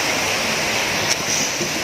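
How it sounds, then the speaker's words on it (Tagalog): Heavy rain pours steadily in a quiet rural spot far from roads, a dense even hiss of water that stays loud and unbroken with no talk. "Grabe, lakas ng ulan na naman guys"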